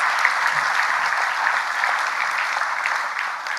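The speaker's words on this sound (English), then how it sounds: "that one also deserves a special round of applause" Steady applause from a school audience at a Year 7–10 awards evening, many hands clapping in an even, continuous wash with no talk over it.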